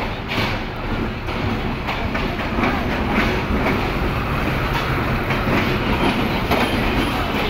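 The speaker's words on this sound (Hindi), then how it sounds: "ZCU20 6410 लोकोमोटिव, आज भी 6410 लोकोमोटिव है 40 डाउन जाफर एक्सप्रेस के साथ" Jaffar Express 40 Down passenger train, hauled by ZCU20 locomotive 6410, rolling steadily with continuous loud rumble and clickety-clack of wheels over rail joints, no voices.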